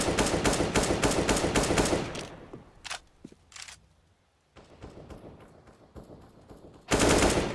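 Gunfire in a competitive Counter-Strike match, with rapid automatic bursts at the start and end and a few scattered single shots and footsteps in between, all loud and close.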